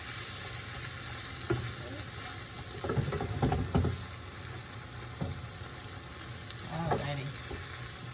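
Green beans and eggs pan frying give a steady close sizzle, broken by bursts of scraping and stirring from a utensil, while a voice speaks a single brief word.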